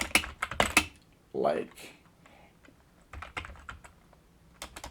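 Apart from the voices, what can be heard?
typing on a computer keyboard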